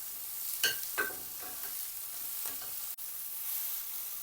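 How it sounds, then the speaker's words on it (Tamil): Onion and tomato sautéing in sesame oil in a pan, a soft steady sizzle broken by a few scraping stirs of a spoon, fairly quiet and close, with no voices. "இந்த தக்காளியும் சேர்ந்து கொஞ்சம் வதங்கி தரணும் அந்தளவுக்கு வதக்கி விட்டு கொள்ளுவோம்"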